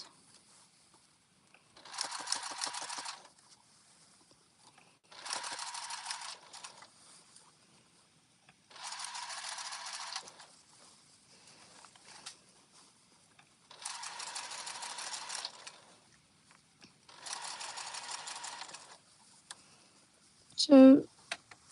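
A sewing machine top stitches around the curved straps and seams of a reversible jumper, running in five separate bursts of steady whirring stitching with quiet pauses between them, then a sharp click near the end.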